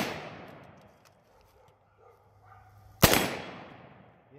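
Remington ACR rifle fired during tactical shooting, a single loud sharp report about three seconds in, its echo trailing off over quiet ambient noise.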